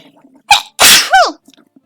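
A single loud sneeze with a sharp inhale before the burst, followed by a short exclamation, with quiet background otherwise.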